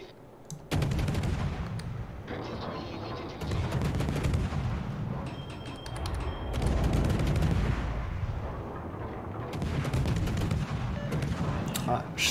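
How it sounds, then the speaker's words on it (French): Naval guns of the cruiser Le Colbert in World of Warships fire in repeated heavy salvos, booming blasts with rumbling decay, loud and close, alongside game effects. "Tire un petit peu à l'aveugle, mais bon."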